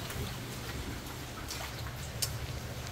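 Steady rain falls during a flood at a house, a soft continuous hiss with scattered drip spatters, moderately loud and even, no voices.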